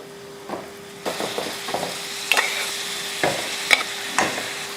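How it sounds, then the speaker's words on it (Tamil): Mutton frying with spices in a pan for a kula dish, a soft sizzle under repeated scraping stirs and metallic clinks of a spoon against the pan, with no one speaking. "இப்போ நம்ம கறி இதில் சேர்த்துருவோம்"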